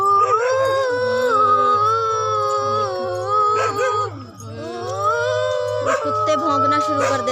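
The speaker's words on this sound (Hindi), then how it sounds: "यहाँ पे कुछ ऐसा होता है कि कुत्ते यहाँ पे भौंकना शुरू कर देते हैं।" Dogs near farm fields at the edge of a forest give long, wavering howls and yelps that rise and fall continuously, fairly loud and close, with some faint voices underneath.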